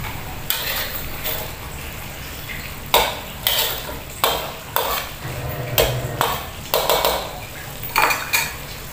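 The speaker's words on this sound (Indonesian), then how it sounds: "Ini sering-sering diaduk ya Mom, takutnya dia gosong di bawah." A spoon scrapes and clinks rhythmically against a cooking pot while gulai curry made with coconut milk is stirred, each stroke a bright metallic clatter repeating about once a second, close and clear.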